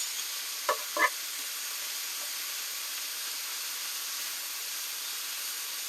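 Steak fajitas sizzle steadily in a hot skillet, a constant frying hiss with a couple of brief scraping stirs near the start, close and alone.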